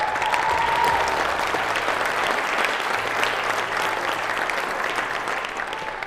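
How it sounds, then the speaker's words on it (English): Audience applause fills a junior women's air pistol final at the 2017 European Championships, a steady, dense clapping from a large crowd that stays loud and even throughout. "taking 7th place in the final, give a round of applause for German Jessie Schrader."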